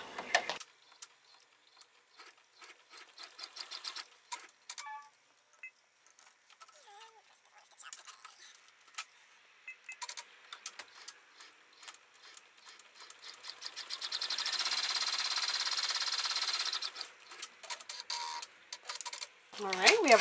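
An embroidery machine sews a placement stitch on vinyl in the hoop, with scattered ticks and taps giving way to a sustained buzzing run of stitching near the end, faint overall, with a person talking at moments.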